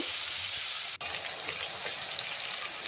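Thinly cut potato and carrot strips sizzle and fry steadily in a pan, a soft continuous crackle with one brief stir-like interruption, heard alone.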